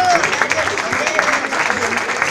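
A birthday party crowd applauds with dense, steady clapping, and someone talks over it throughout.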